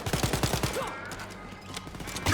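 Gunfire in Wolfenstein Youngblood, a quick burst of rapid shots at the start, followed by scattered game sounds and a louder blast at the end.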